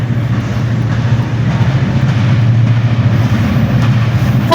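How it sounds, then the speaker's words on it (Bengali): A passenger train on the Khulna to Rajshahi line rolls past outdoors, a loud continuous low rumble and drone holding steady throughout, with faint clatter above and no talk. "ওই যে ওই দিক থেকে ট্রেন আসতেছে।"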